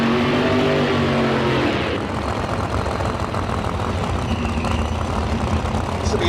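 An X275 Dodge Challenger drag car sits at the start line in a Street Car Super Nationals round in Las Vegas, its engine roaring loud and close in a dense, continuous blast that shifts tone partway through.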